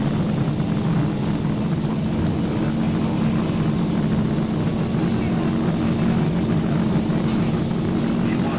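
An Envoy Air regional jet's engines roar at takeoff thrust during the runway roll, a loud, steady, broadband rumble with a low drone filling the whole stretch.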